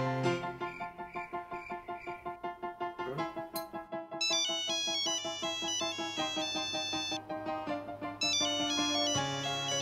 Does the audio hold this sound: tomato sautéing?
no